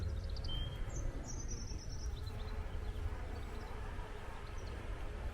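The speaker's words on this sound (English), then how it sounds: "this rosemary bush here, it is alive with wildlife. The bees are buzzing and you can hear them" Bees buzz around a flowering rosemary bush outdoors, a faint continuous hum with a few bird chirps over it.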